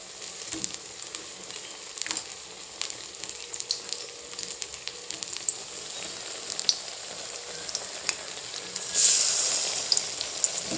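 Gram-flour-battered pumpkin flowers sizzle steadily in hot oil with constant crackling, and the sizzle swells louder briefly near the end.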